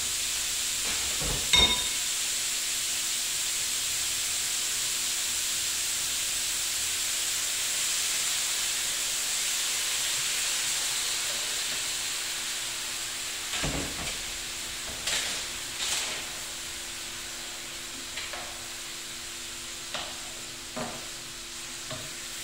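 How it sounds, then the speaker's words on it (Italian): Champignon mushrooms for risotto are deglazed with white wine in a hot pan, hissing and sizzling steadily throughout. A few clinks of a stirring utensil break through the frying noise. "E sfumo con un po' di vino bianco"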